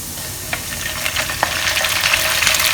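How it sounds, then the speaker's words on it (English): Pork frying with garlic in a pan over medium heat for a Chinese stir fry with Sichuan vegetables, giving a steady, close, loud sizzle with scattered sharp pops and crackles throughout, and no talking. "Now once you can start to smell the garlic, put in the pork."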